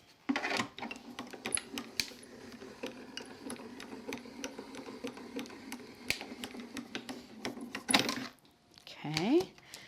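Die cutting machine feeding a craft die through its rollers: a steady grinding mechanical run with frequent small clicks and ticks, close and moderately quiet, ending in a few louder clacks.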